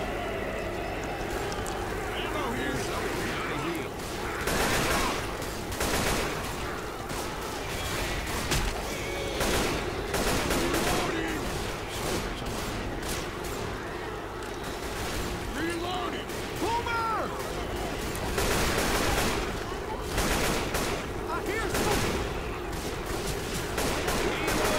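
Sustained rapid gunfire from the zombie shooter Left 4 Dead 2, dense overlapping shots and bursts running nearly nonstop at steady loudness, with players talking over the shooting.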